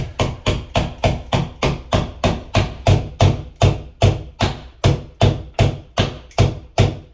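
A hammer taps a wall plug into a wall about two dozen times in a steady, even rhythm, each blow a sharp close knock with a short ring.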